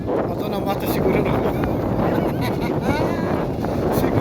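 Strong wind sweeps over a lake where people are fishing for tilapia, buffeting the microphone with a loud, continuous roar and gusty rumble that fills the whole stretch.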